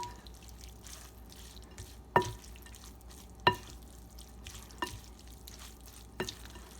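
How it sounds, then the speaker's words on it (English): Rice salad ingredients are stirred together in a bowl, with a quiet, soft scraping bed broken by four sharp, spaced clinks of a utensil against the dish. "So then I'm going to mix all of that together."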